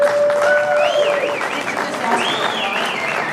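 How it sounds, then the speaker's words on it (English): Audience applause at a talk, a broad crowd clapping throughout, with whistles or whoops rising over it and a voice faintly mixed in. "let's do this by applause, how many people own a Sennheiser microphone?"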